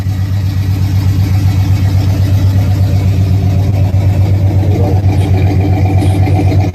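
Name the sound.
muscle car engine idling, factory headers, ram air, W30 package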